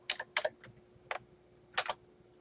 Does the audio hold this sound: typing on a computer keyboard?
yes